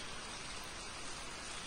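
Rain falling steadily at night in Sri Lanka, a faint, even hiss that fills the short stretch without a break or any voices.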